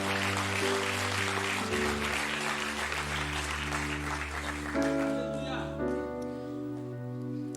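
Church congregation clapping during a worship service, a dense sustained patter of hands under held organ or keyboard chords, with a voice speaking over it.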